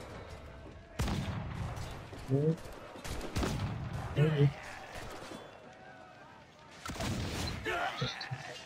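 Heavy booming blasts of cannon fire in Assassin's Creed 4 go off several times at irregular intervals, mixed with clattering effects and brief spoken remarks.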